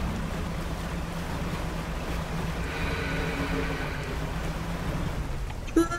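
A boat in the Dredge video game moves steadily through water with a constant wash of waves and a low engine hum, close and even throughout, ending in a brief small clunk.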